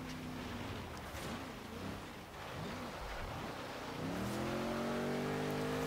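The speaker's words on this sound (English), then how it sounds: "It's going to be certainly the first classic car with a V8 that we're going to try out on Extreme Off-Road builds." A classic V8 car engine in Forza Horizon 3 drones and revs continuously, rising in pitch near the end, heard alone without talk.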